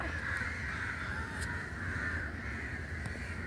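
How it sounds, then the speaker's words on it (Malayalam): A crow caws repeatedly near a rooftop terrace, harsh calls sounding over a constant hissing background at moderate distance, with no speech. "കാക്ക"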